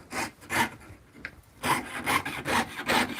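Rhythmic rasping strokes of a hand saw or file cutting metal, about seven back-and-forth passes with a brief pause in the middle.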